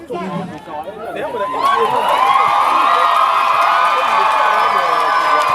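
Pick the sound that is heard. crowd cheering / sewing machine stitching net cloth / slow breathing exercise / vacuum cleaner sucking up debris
crowd cheering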